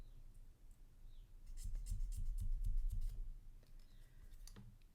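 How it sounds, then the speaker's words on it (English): Scissors scraping and snipping along a paper edge to distress it for a junk journal, a quiet cluster of dry rasping clicks in the middle with stillness before and after. "We're going to alter this just a little by distressing it using our scissors."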